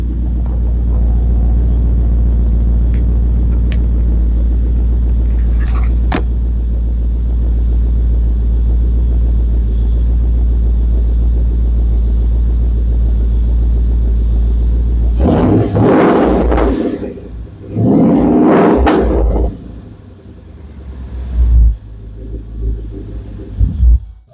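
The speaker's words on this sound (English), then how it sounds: "Had a little bit of a crackle in the exhaust note when it first started" A deep, rumbling 2013 Ford Mustang GT 5.0 V8 with an aftermarket axle-back exhaust idles steadily up close, then blips and revs twice with a rougher, louder roar before settling back to a burbling idle.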